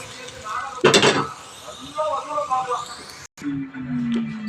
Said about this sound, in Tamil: நல்லா கிளறி விட்டு இறக்கிக்குவோம்